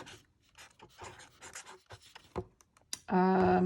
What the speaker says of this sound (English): Let's see if we can write on black.